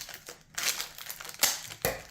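An MRE ration pouch from a 2022 US Case A is cut open with a knife, giving a few close, crisp crinkling and crunching bursts of plastic packaging.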